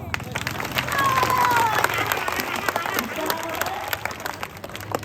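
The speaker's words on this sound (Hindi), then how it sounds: "जोर से तालियां बजाओ" A crowd at an Independence Day religious address claps and applauds steadily throughout, with a voice loudly urging louder clapping in Hindi-Urdu over the noise.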